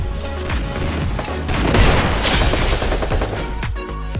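A dense, loud burst of rapid gunfire from the Free Fire mobile shooter game, with overlapping shots and explosive booms running continuously for about four seconds, without talking.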